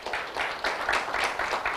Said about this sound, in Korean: 박수로 확인해 주시기 바랍니다.